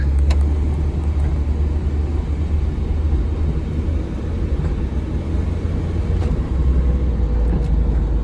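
A cheap junkyard-rescued Honda Integra runs from inside the cabin as a steady, loud low engine rumble that continues unbroken, with faint clicks and rattles over the drone.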